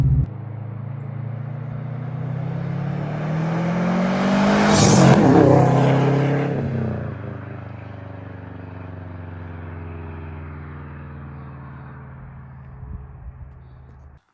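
A Subaru WRX with a swapped EJ20X engine does a drive-by, its exhaust note swelling from a distance to a loud revving pass at mid-clip, then fading away as it recedes, with no talk over it.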